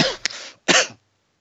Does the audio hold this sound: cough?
yes